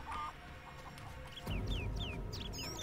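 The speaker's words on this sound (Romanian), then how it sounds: "Se aude o găină, mai multe găini." Several chickens cluck and bock in the open-world game The Witcher, calls coming from a middle distance over a steady bed of outdoor ambience and rustling vegetation, with a brief low thud partway through.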